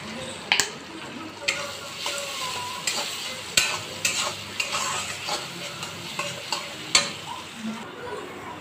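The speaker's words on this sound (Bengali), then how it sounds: "মশলাটা ভালো করে কষিয়ে নিয়েছি" A spice masala fries and sizzles in a pan, a steady hiss punctuated by repeated scraping and clacking strokes as it is stirred, close and fairly loud, with no voices.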